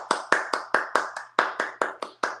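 A pair of hands claps in a quick uneven rhythm, about a dozen sharp, close claps in a row with short gaps, loud and alone with no talking over them.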